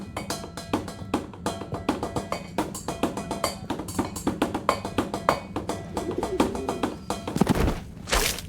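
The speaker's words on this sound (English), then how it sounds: "Bird. Hang on. That's Zoya's bird." Zoya's bird in the game Harold Halibut coos, with soft repeated calls sitting among dense clicking and tapping sounds that run steadily from start to end, plus a brief whoosh near the close.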